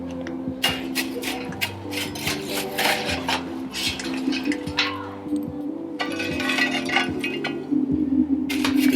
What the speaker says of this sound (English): I'll just get some coals out of there.